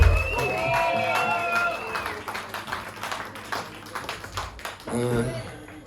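Concert audience applauding a band at a choir event, dense clapping and some cheering over sustained musical tones at the start, continuing steadily with a brief voice near the end.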